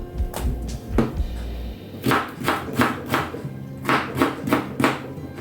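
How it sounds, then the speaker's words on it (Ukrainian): A knife chops potatoes on a cutting board in a run of sharp, evenly spaced knocks, close and fairly loud, with a brief pause partway. "зараз до цибулі нарізаю так само картоплю все одненько"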